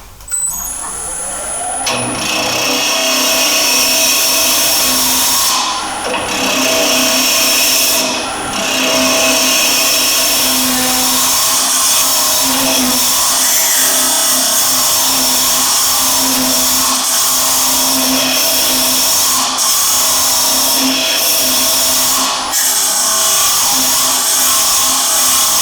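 Woodturning multi-tool with a small 6mm tip cutting a natural-edge wooden vase on a lathe, a loud steady whirring drone with scraping texture that continues throughout.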